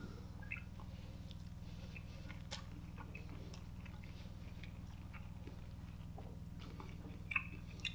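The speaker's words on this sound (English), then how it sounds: "I'm going to do an awful thing and dig into the pasta." Soft, close chewing of a mouthful of pasta with bacon, egg and shrimp, quiet moist mastication over a steady low background hum, with no talking.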